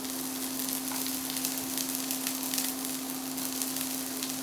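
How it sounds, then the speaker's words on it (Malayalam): Chopped white onion for a Kerala-style white vegetable stew sizzles in a pan, a soft, steady frying hiss with faint crackles under a low background hum. "putting the chopped onion."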